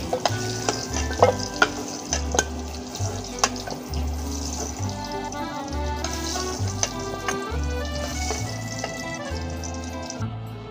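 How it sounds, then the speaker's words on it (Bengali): Potatoes frying in hot oil in a pan at an outdoor picnic cook-up, with steady sizzling and repeated scraping, clattering stirs throughout, plus a low, rhythmic background hum. "এখানে দেখুন আমি আলুগুলো লাল করে ভেজে নিয়েছি,"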